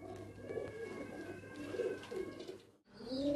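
Soft, low pigeon coos from a loft of yellow-tailed pigeons in Faisalabad repeat in rolling throaty bursts, close by, with a faint steady hum behind them and a brief dip near the end.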